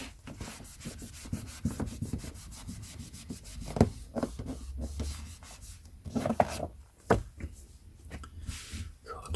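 A cloth rubs and scrubs along the dirty spine of a vintage Great Pan paperback book in close, dry, scratchy strokes, irregular in rhythm with some firmer swipes, while someone talks quietly at intervals.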